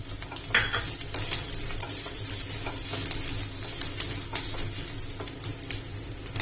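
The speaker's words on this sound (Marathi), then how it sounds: "आलं आणि लसूण दोन्ही फ्राय होत आलेलं आहे आम्ही त्यात मिरच्या घालते" Green chillies going into frying ginger and garlic in hot oil, a continuous crackling sizzle with scattered clinks and scrapes of a spoon against the pan.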